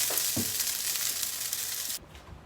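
Chili beans cooking in a pan, giving a steady soft sizzle and bubbling hiss for about two seconds before it drops away to quiet.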